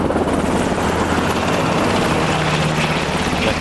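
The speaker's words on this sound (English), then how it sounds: "Big chopper." A helicopter flies overhead with a loud, continuous, close rotor and engine roar that stays steady throughout, with no talking.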